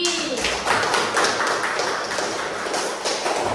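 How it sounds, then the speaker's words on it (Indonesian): A classroom of primary school pupils claps together for a classmate, a dense burst of many hands lasting a few seconds at steady loudness, with some voices mixed in. "Tepuk tangan buat Aldi."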